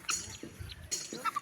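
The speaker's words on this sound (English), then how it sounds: "Almost 14 guinea fowls, almost 15 guinea fowls" A flock of around fifteen mostly female guinea fowl grazing in a swampy grassy area gives short, close squawks and chattering calls in quick bursts.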